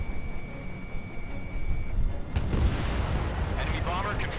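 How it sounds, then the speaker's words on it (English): A missile launches with a sudden roaring whoosh in the Ace Combat jet game, cutting in after a steady tone and sustaining a loud rushing rumble beneath radio chatter. "Missile launched."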